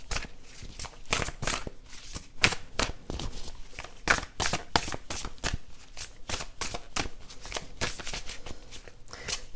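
Tarot cards shuffled by hand at close range, a rapid run of crisp riffling bursts and soft card slaps repeating steadily throughout, no talk.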